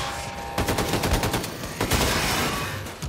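Rapid automatic gunfire from the Wolfenstein game rattles in dense, close bursts over about three seconds, a volley of sharp cracks layered over loud background combat noise.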